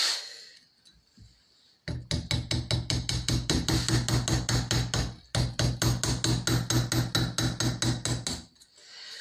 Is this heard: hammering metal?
yes